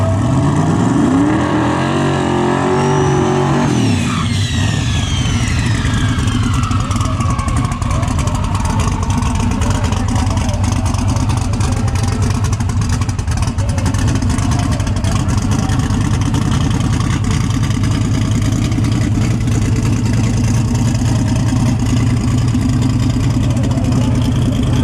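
A big block turbocharged drag car, Big Block Mullet, rumbles loudly, then launches with a rising roar and turbo whine that holds as a sustained, distorted, very loud pass at the strip.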